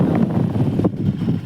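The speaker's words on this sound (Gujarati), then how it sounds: "તમને પંખો ચાલુ કરીને બતાડું કેટલીક હવા દઈએ." A battery-charged electric fan runs inside a thatched hut, its air blowing as a steady, close whooshing rumble against the microphone, with no talk.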